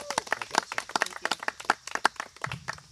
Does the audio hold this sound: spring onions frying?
no